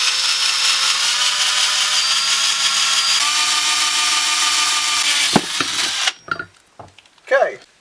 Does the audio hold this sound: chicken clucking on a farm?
no